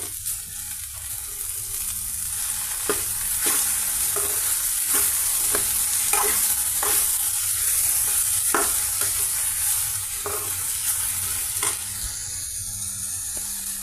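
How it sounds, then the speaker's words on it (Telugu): Okra frying in a pan over low flame with turmeric and salt, a continuous sizzle and hiss punctuated by regular scraping stirs, close and fairly loud. "ఇక లో ఫ్లేమ్ మీద ఇవి ఫ్రై అవుతాయండి"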